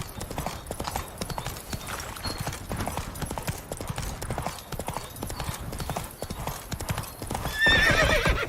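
Hooves of Roach, the horse in The Witcher 3, clip-clop steadily at a gallop throughout, closing with a loud nearby neigh.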